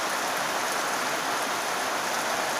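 Steady morning rain pours down in a dense, even hiss, close and continuous throughout with no voices.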